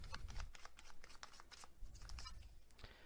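Tarot advice cards shuffled by hand, a soft, quiet riffling and flapping of the deck in rapid bursts with light tapping, close up.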